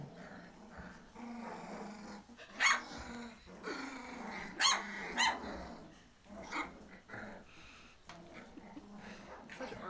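Puppies on a New Zealand farm growl and yip in a playful scuffle, with a low growl running throughout and several sharp barks standing out, close by, with a person talking softly over them.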